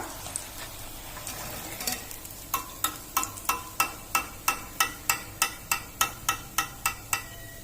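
Chilli bajji fry in hot oil at a beachside-style stall, a steady hiss of frying underlying a run of sharp, evenly spaced taps that begin partway through and repeat about three times a second.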